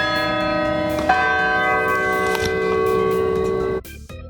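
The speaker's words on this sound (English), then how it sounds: "oh, the bell is ringing." A large bell on the Purdue University campus rings with a sustained, resonant tone, its harmonics hanging in the air before stopping abruptly near the end.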